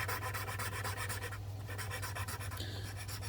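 A metal file works back and forth on a saw chain's depth-gauge button, giving steady, close rasping strokes in an even rhythm over a constant low hum.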